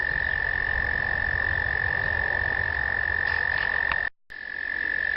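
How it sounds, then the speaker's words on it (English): Crickets sing in the countryside in autumn as one steady, unbroken high trill that stops abruptly near the end, with no voices over it. "Listen to the crickets singing."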